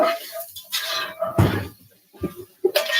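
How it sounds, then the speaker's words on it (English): A spoon stirs split pea soup with bacon fat in a pot, giving intermittent scrapes and clinks of metal against the pot, close and moderately loud, with pauses between bursts. "Throw a little bacon. Okay, stir that up. Stir that up."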